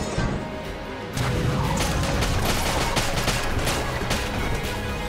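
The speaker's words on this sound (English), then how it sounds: "the black hole gun eviscerating time and space" Black hole gun firing in the video game Enter the Gungeon, a dense roaring barrage of crashing, crackling bursts that swells after a brief lead-in and stays loud and continuous throughout.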